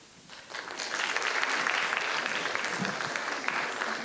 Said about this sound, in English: Keep the applause going. Clap them right off stage.